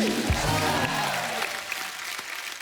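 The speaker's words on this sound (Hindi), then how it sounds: "जोरदार तालियां हो जाए।" A studio audience on a Hindi comedy talk show breaks into loud, dense applause, many hands clapping together under lingering music notes that fade out over a couple of seconds.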